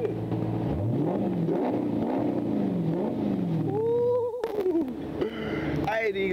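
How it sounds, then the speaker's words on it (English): A car engine revs up and winds down in a series of rising and falling sweeps, loud and close, with people talking over it inside the car. "Can I rev it?"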